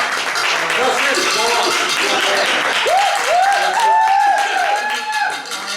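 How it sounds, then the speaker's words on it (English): Audience applause during a live comedic stage show; thick, continuous clapping from a crowd holds at full strength while voices call out and speak over it. "Yeah, go ahead and applaud."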